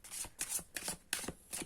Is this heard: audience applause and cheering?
no